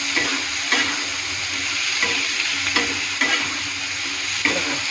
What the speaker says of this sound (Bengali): এখানে কাটা হওয়া আলুকে ঢেলে দিলাম। আমি ভালো করে নাড়িয়ে ছেড়ে মিক্স করবো এটাকে।